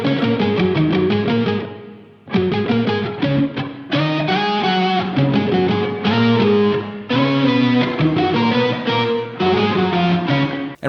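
Music played through a Lofi Spring reverb plugin with its drive pushed for distortion: short chordal phrases with gritty, saturated tone and reverb tails, stopping and restarting in segments.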